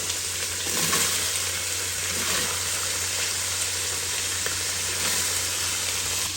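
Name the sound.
three onions sizzling as they are added to the pan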